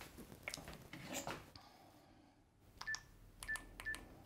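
Faint, quiet sequence of short electronic telephone dialing beeps, a few spaced tones near the end after some soft rustling and handling noise.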